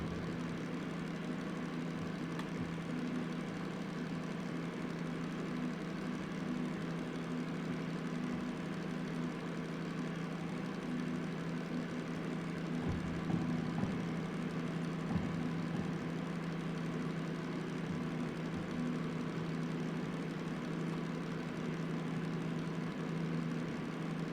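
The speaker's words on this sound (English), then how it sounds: "I do like the sound of the engine. It's very nice and rumbly." A locomotive engine in the train simulator game Derail Valley gives off a low, steady rumble that drones evenly for the whole stretch, with no talking.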